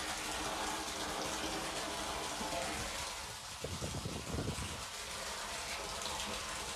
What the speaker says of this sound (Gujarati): ફાસ્ટ પાણી આવવા માંડ્યું છે